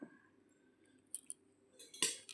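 A faint, quiet scrape and a few light metallic clinks come from a spoon stirring Maggi noodles frying in a pan with salt and turmeric, ending in a slightly louder clatter.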